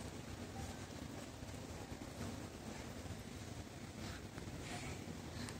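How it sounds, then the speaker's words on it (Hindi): Rain falling outdoors as a faint, steady hiss of drops, with a soft rumble of wind underneath and no one speaking. "ये देखिए बारिश आ रही है"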